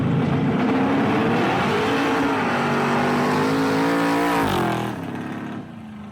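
A car engine revs loud and close, its pitch climbing and holding before dropping off sharply near the end.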